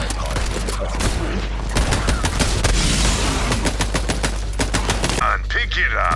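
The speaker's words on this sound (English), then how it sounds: "I keep shooting at you" Rapid video game gunfire in Borderlands 3, dense bursts of automatic shots and fusillade filling the clip loudly, with a player talking quietly underneath.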